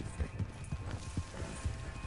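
Horse hooves clip-clopping in Red Dead Redemption 2, a steady, rapid run of soft, muffled hoofbeats at moderate distance with no one talking.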